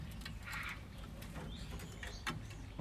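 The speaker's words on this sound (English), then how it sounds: "they're the two wood pigeons" Two wood pigeons cooing outdoors, soft low calls at a moderate distance over a steady background hum, with a few faint chirps mixed in.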